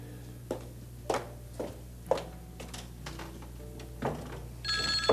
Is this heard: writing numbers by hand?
no